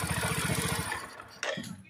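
Bajaj Discover 100cc motorcycle idling steadily up close with a rhythmic single-cylinder putter for most of the clip, then fading as a brief mechanical clunk and shuffling take over near the end.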